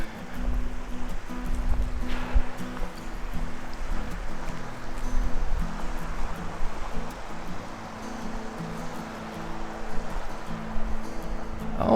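A creek at Goose Creek Campground in Wenatchee National Forest, Washington, rushes and burbles continuously nearby, a steady broadband wash with slight surges and no talking.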